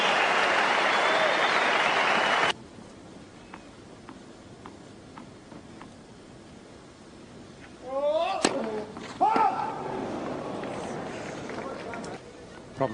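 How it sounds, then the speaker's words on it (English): A crowd at a Roland Garros 2014 semifinal between Djokovic and Gulbis gives a loud, dense ovation that fills the first seconds, then cuts off into a quieter court with voices talking. "listen to the ovation from the crowd"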